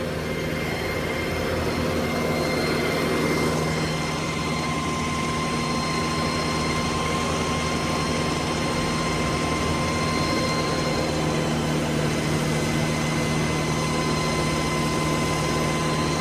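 A Mahindra Arjun 755 tractor engine runs under PTO load, giving a loud, unbroken drone with a constant tonal hum and dense broadband roar that holds steady from start to finish, with no voices.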